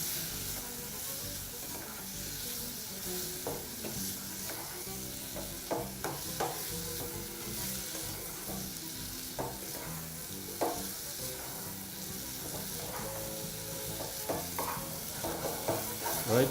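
Apples with cinnamon, nutmeg and vanilla are stirred in a pan over a soft steady sizzle, with irregular scraping and clinking of the utensil against the pan, moderately quiet and close, with no speech.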